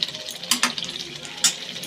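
Food being stirred and sautéed in a pan for a Bengali kosha, a soft continuous sizzle with a few sharper scraping strokes of the spoon near the middle and end.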